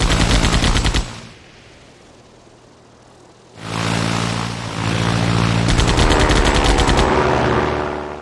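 Biplane machine guns firing at a Zeppelin in the Sid Meier's Ace Patrol game, loud rapid bursts over a droning engine, a brief lull, then sustained fire again.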